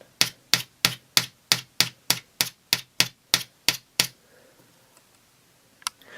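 A knife scrapes across a gold champagne iPhone 5S case in a steady run of about fourteen evenly spaced scratching strokes, crisp and close, then stops, followed by quiet and one faint later scrape.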